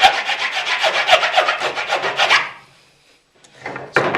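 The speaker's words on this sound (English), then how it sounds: "I'll just hold it down with my hand and start going over it with the file." A hand file rasping over a wooden board bow held down by hand: a steady run of close, rhythmic strokes about twice a second, then a pause and a few more strokes starting up, with no talk.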